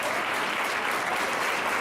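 A church congregation claps steadily and loudly together, a dense, continuous wash of applause from start to end.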